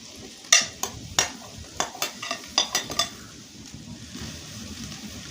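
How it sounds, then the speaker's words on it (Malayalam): A mixture cooking in a pan is stirred continuously so it won't stick to the bottom, giving a string of sharp spoon scrapes and clinks against the pan over a faint sizzle, close and unaccompanied. "പാത്രത്തിൻ്റെ അടിയിൽ പിടിക്കാതിരിക്കാനാണ് തുടർച്ചയായി ഇളക്കി കൊടുക്കുന്നത്."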